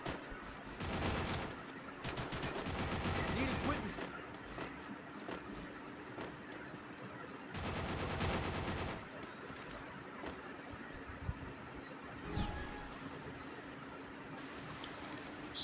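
Bursts of automatic fire from the Kingfisher gun in the shooter game Free Fire Clash Squad, several long loud volleys separated by quieter stretches of background game noise, with a final short burst near the end.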